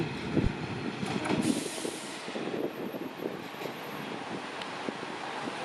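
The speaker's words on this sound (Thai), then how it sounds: "เข้าสถานีสามเสนแล้วครับ" A Bangkok–Hua Hin train pulls into Samsen station, a rumbling rolling rush with wind noise and a few squeaks and knocks, steady and moderately loud.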